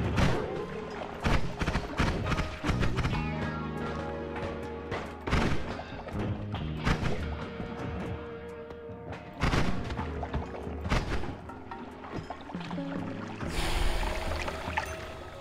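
A landmine explodes in the pixel-physics game Noita, amid a chaotic string of booms, crashes and sharp impacts spread across the clip, fairly loud with irregular bursts and debris-like clatter.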